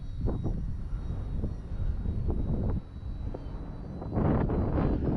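A Durafly Ugly Stick RC airplane flies in windy conditions, its engine buzz droning steadily amid wind noise and swelling louder near the end.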